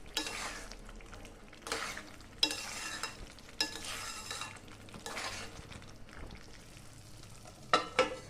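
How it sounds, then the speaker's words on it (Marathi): A spoon stirs and sautés amaranth flour sheera with jaggery and cardamom in a pan, making soft sizzling under repeated scraping strokes and occasional metallic clinks against the pan, with no talk. "शिऱ्याला परतून घेऊ।"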